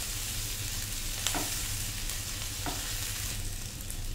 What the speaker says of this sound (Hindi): प्याज को गोल्डन फ्राई करें।